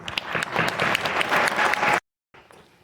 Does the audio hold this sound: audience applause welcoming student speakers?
yes